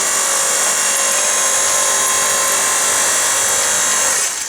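A homemade electric log splitter forge press runs with a loud, steady motor whine and broad hum that holds evenly for about four seconds, then cuts off.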